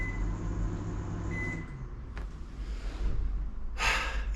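A microwave oven hums steadily for about a second and a half, then its drone cuts out, leaving a quieter background with a few faint clicks and a brief burst of noise near the end.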